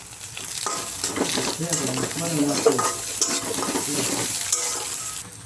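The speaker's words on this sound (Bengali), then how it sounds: "ডিমটাকে ভালো করে ভেজে নেব।" An egg sprinkled with a little salt fries in a pan beside pushed-aside peas while pasta is being cooked, giving a steady loud sizzle with stirring scrapes and bursts of crackle throughout.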